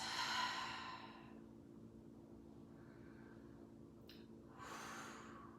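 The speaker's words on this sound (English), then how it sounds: "Just find some deep breaths" Slow, deep breathing during a yoga session, a long audible exhale at the start and another breath near the end, soft and close in a quiet room with no talk.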